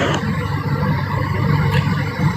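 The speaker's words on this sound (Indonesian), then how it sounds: "Ini suara kipas." Steady, noisy whirring of a fan close to the microphone, a constant broadband rush with a low rumble and no talking.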